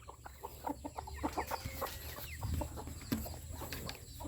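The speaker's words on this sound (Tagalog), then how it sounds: "At ito naman yung apat na sisiw." Hens clucking softly and four chicks peeping in short, scattered calls, close by, over a faint steady background hum.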